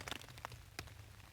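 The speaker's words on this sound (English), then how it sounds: "it's completely raining right now" Rain falls onto a tarp at a wet campsite during a motorcycle camping trip, a soft, faint patter of scattered drops with a few louder taps, heard alone.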